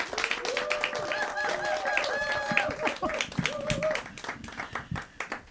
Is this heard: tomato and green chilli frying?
no